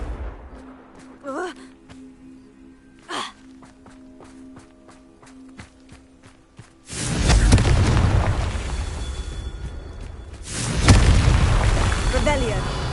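Confringo explosion spell blasts in the Hogwarts Legacy video game, two heavy roaring bursts in succession after quieter footsteps and short whooshes, with a voice calling out over them.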